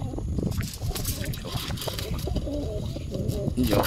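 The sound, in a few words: pigeons cooing in a loft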